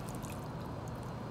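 Chopped onions tumble into a cooking pot for yassa, a short, close, soft rustling and squishing wash of sound with no voice.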